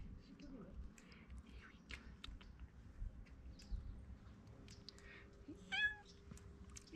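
Cats meowing outdoors among several cats in Beniarbeig, Spain, faint and intermittent with a clearer mewing call near the end, under low background noise and occasional soft talk.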